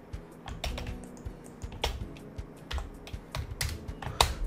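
Rapid typing on a computer keyboard while entering HTML code, with uneven bursts of close, crisp key clicks and no voices.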